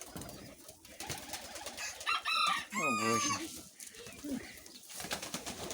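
Pigeons coo in a short rising and falling burst, close by, while someone speaks over them about feeding them small millet grain.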